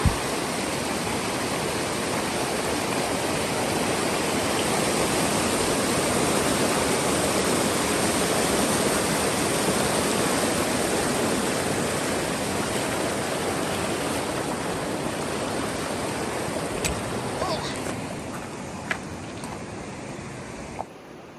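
A river on the Continental Divide Trail rushes in a steady, close, full wash of flowing water that holds an even level throughout, with a few faint clicks near the end.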